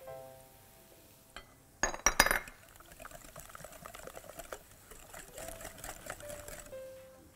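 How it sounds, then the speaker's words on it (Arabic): Eggs, sugar and milk are whisked together in a bowl, a quick run of sharp clinks followed by a steady soft rhythmic beating against the bowl, close and fairly quiet, with no talk. "هنضربهم ببساطة جدا مع بعض اهو، السكر والبيض"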